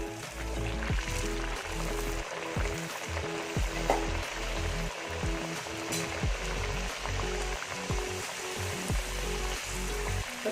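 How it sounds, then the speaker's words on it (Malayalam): Rolled masala-stuffed puri frying in hot oil, a steady close bubbling sizzle with crackling throughout, no voices. "എണ്ണയൊക്കെ നല്ലോണം ചൂടായി. ഇനി നമുക്ക് പരത്തി വെച്ചേക്കുന്ന പൂരി ഇതിലേക്ക് ഇട്ട് കൊടുക്കാം."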